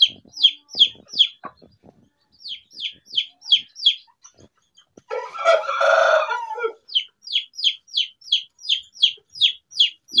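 Japanese bantam chicken with chicks: rhythmic repeated high cheeping from the chicks in quick bursts, interrupted midway by a loud rooster-like crow or squawk from the adult bird, close up.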